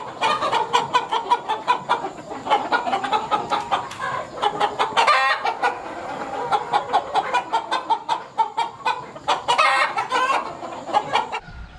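Kadaknath chickens cluck over and over in a coop, a busy near chorus of short rhythmic clucks and calls from several birds, loud and close with no talking.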